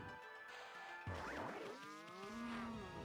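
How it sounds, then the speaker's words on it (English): Cows mooing in the video game Ōkami, a couple of drawn-out, bending lowing calls over a faint steady game backdrop, fairly quiet and without speech. "I can hear cows."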